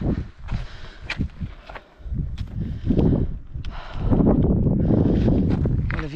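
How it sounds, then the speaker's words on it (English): Strong gusty wind in the West Texas mountains buffets the microphone with rough, uneven rumbling that swells and builds louder toward the end, with scattered rustling and thumps. "Got that Wild West Texas wind"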